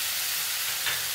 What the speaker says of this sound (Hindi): अब मैं इसमें वो मिक्स कर रही हूँ